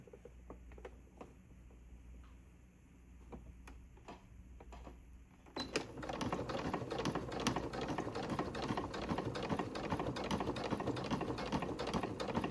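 A sewing machine stitches fabric, first as faint, sparse ticking, then a steady fast mechanical chatter that runs loud and close through the second half.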